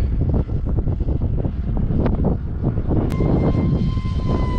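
Steady loud buzzing of a brushless motor on an RC flying wing model aircraft, heavily buffeted by wind noise against the microphone in gusty wind, with a rising whine near the end.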